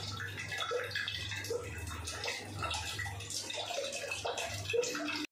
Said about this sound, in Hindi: हल्का पानी डालना है, ज़्यादा नहीं